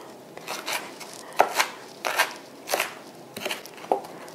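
A knife chops green leek on a cutting board in a home kitchen, giving about eight crisp, sharp strokes in an uneven rhythm, close and clear, with no talk over them.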